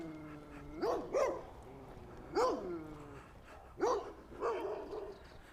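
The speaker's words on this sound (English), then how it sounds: "Multiple dogs." Several dogs bark behind a big fence in a suburban street in Innisfail, Australia: loud, close, sharp barks in separate bursts, with a whine between them.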